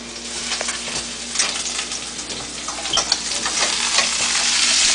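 Chopped onions sizzle and fry in a pan while being stirred, a steady hiss with scraping and clinking of the utensil close by, growing slightly louder toward the end.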